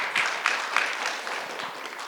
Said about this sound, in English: Yes, do the round of applause